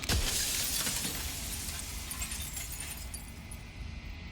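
Glass shatters in the video game Slay the Princess: a loud, sharp crash at the start that trails off into a long, glittering hiss of scattering fragments.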